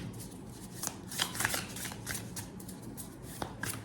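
Tarot cards being handled and drawn from a deck, with light papery shuffling and a few soft snaps and flicks over quiet room noise. No voice is heard.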